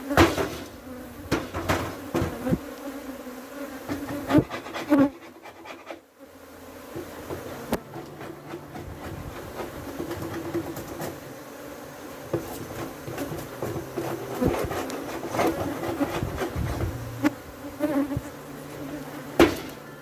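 Africanized honey bees buzz in a dense swarm at a hive in Trinidad. The drone holds steady and close for the whole span, with sharp knocks and taps on the wooden hive box mixed in.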